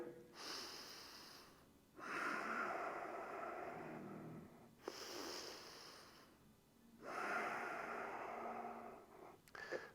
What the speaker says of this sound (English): 3 more breaths here